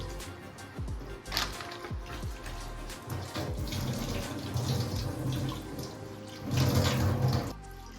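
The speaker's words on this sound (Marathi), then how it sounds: "हे आता जे कापून वगैरे साफ करून घेतले ते परत एकदा धुवून घ्यायचे चांगले व्यवस्थित" Running tap water rinsing cut and cleaned bangda (mackerel) fish pieces, a steady splashing flow with wet handling clatter, swelling louder near the end; no talking.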